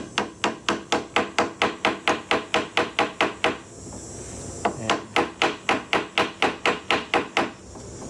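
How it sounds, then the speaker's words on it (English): A small hammer drives a nail into a loose oak chair rung joint in a woodworking repair, with two runs of rapid, evenly spaced, sharp taps close up and a brief pause between them. "And now I'll take my little hammer."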